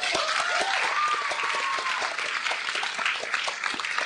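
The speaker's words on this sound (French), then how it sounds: "On l'applaudit, Marie-Josée Tardif." An audience in a theatre at a stage show applauds, a dense burst of many clapping hands with individual claps standing out, steady and fairly loud throughout, with a brief whistle or cheer riding over it early on.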